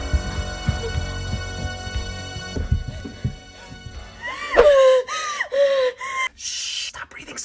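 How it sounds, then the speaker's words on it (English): Heavy, loud breathing in a comedy skit comes as rough gasping breaths that quicken into a series of strained, wheezy pulls, close by and mostly free of speech. "stop breathing so loudly"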